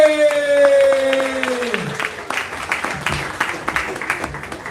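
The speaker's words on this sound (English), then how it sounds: "Thank you for the very loud claps." Crowd applause for a comedian at a live comedy show, clapping rising in as a musical walk-on sting fades out, then many hands clapping steadily and fairly loud.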